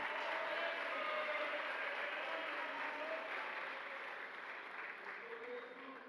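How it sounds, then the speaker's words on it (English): An awards-event audience applauds the men's soccer team with a steady, broad roar of clapping and some crowd noise, gradually easing in loudness over several seconds. "let's give a big round of applause for the men's soccer team"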